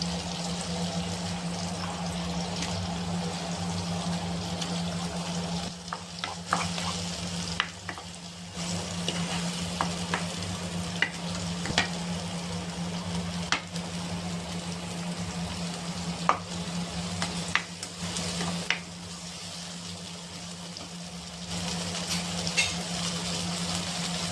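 Masala paste for a cauliflower and egg fry cooks in a pan with a continuous close sizzle under a low steady hum, punctuated by occasional sharp spatula scrapes and clicks and no talking.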